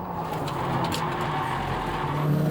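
A race car braking hard and cornering on a course marked with cones, with a steady engine drone and tires scrubbing for grip at moderate distance, no voices over it.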